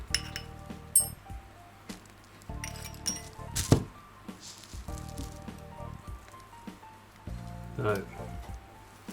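Small metal clock part from a German mantle clock set down into a dish, giving a few light clinks amid other scattered taps and handling noises, with someone talking throughout.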